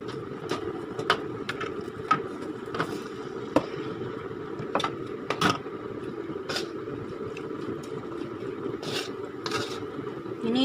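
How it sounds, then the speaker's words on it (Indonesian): A stove burner on a home kitchen stove gives a steady low roar while a kitchen fan runs. Scattered clicks and scrapes from cooking chillies sit on top of the constant rumble, with no talk. "Ini suara kompornya seperti itu karena aku hidupin kipas"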